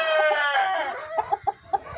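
Ameraucana chickens in an enclosure: a rooster's drawn-out crow followed by several short, sharp clucks from the flock, close and clear, with no talking.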